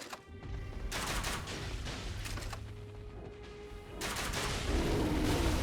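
A crossbow fires repeatedly in Elden Ring, a crossbow build in use, sharp quick twangs and impacts rattling in dense bursts, loud and close, with no talking.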